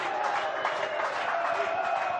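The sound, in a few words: rugby league fans cheering on the terrace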